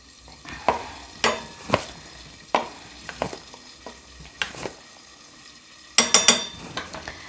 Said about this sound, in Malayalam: നല്ലോണം ഫ്രൈ ആവട്ടെ കേട്ടോ.